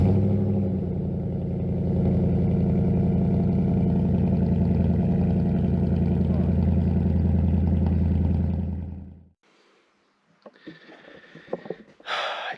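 A car engine that will not rev past 1300 rpm runs steadily and roughly for several seconds, a low rumbling drone, then cuts out, leaving quiet with a few faint clicks and rustles.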